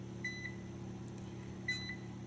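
An air fryer control panel beeps as settings are adjusted: a couple of short, faint electronic beeps early on and another pair later, over the appliance's steady low hum, with no talking.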